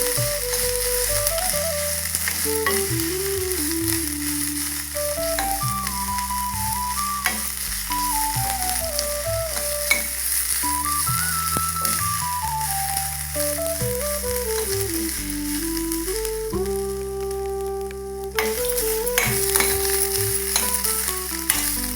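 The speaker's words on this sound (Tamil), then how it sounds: "இதோட பட்டை வாசனம் போகிற வரைக்கும் வறுக்கணும்" Cinnamon and green mango pieces frying in a pan for mango ginger rice, a steady sizzle running throughout with light stirring, heard up close under melodic background music and no talk.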